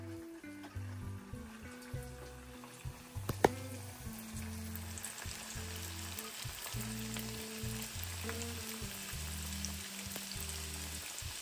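Pithe sweets such as saptapuri frying in oil make a lively, crackling sizzle with bubbling and a few sharp spatters, while background music plays and no one speaks.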